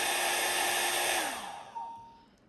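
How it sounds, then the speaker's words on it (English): Hair dryer blowing while drying alcohol ink artwork, a loud steady whooshing hiss with a whining motor tone that winds down and fades as it is switched off. "I'm sitting here thinking just with my dryer running."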